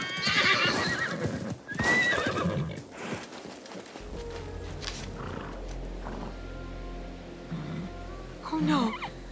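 In Assassin's Creed Mirage, a horse neighs loudly and hooves clip-clop close by, with a second whinny near the end and game ambience underneath.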